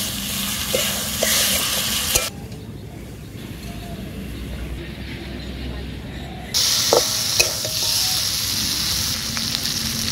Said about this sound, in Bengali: সমস্ত উপকরণগুলো কিন্তু আমি বেশ খানিকটা সময় ধরে কষিয়ে নেব